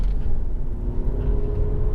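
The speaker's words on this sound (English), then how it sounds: "when I'm going to pull away, normally you'd go from first to second, but now all I do is a rising engine note" A Lexus RX 400h 3.3 SE hybrid with CVT pulls away, its engine note climbing steadily over a continuous low rumble, close and fairly loud, with no talking.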